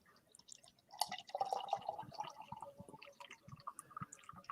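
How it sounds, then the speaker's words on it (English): Pontoon Brewing Quad Stack beer pours into a glass with soft, close splashing and trickling liquid sounds that build and continue for several seconds. "I am going to pour mine."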